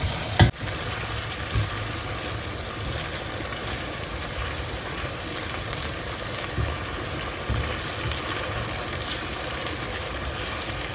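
Spicy chicken gizzards frying in a pan, a constant dense sizzle and bubbling throughout with a sharp utensil knock near the start, close and steady with no talking.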